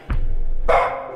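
A dog in the horror video game Lost in Vivo gives two loud, close barks in quick succession, the second harsher and louder than the first.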